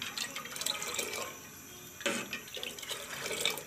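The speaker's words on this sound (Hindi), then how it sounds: "इसको हम साथ साथ हिलाते जाएंगे।" Quiet splashing and swirling of water being stirred in a pot for Kashmiri pink tea, with soft irregular sloshes and drips, close by and fairly faint.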